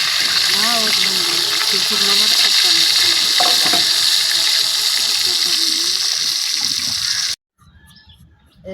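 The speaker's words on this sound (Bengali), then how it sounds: "দুটো মেয়ে খাবে বলে খুব সুন্দর করে ভেজে নিচ্ছে" Fish fries in hot oil in a home kitchen, a loud steady sizzle with crackling and stirring, a voice chatting over it, cutting off abruptly near the end to quieter room sound.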